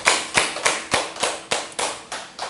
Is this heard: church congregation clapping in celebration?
yes